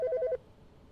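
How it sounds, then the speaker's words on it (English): A telephone rings with a short warbling electronic trill, several quick pulses lasting under half a second, loud and close, then cutting off to near silence. "How do I pick up the phone?"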